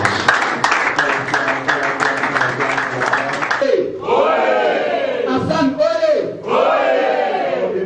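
An audience cheers and shouts as a speaker is welcomed at an event in Congo. Rhythmic clapping and crowd cries come first, then rising voices and whoops fill the hall, loud and close.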